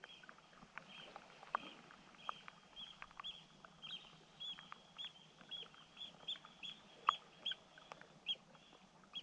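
Seabirds calling by the sea on Harris in the evening: faint, scattered short calls and chirps come at irregular intervals over a quiet, low wash of water and wind.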